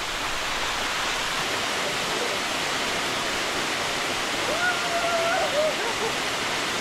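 A large waterfall roars as a steady, broadband rush of falling water, with a brief faint voice-like tone rising over it midway.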